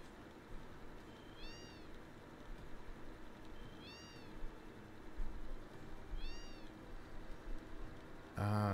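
Several cats meowing in Wutai Village in Final Fantasy VII, three clear rising-falling meows spaced a few seconds apart over a steady game background.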